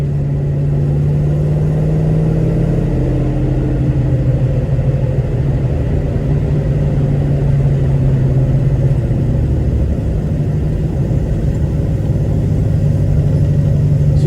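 A 1972 Nova with a 5-speed transmission drives and turns around, its engine a loud, steady low rumble heard from inside, with slight shifts in pitch as it moves.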